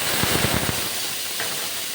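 A steady, loud sizzling hiss of ginger paste frying in hot oil, with a few crackles near the start.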